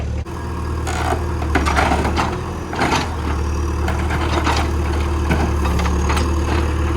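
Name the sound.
backhoe tearing tin siding off a barn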